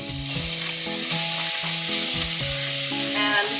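Onion and garlic sauté in a pan for beef and bean chili, with a continuous loud sizzle close up and no talk.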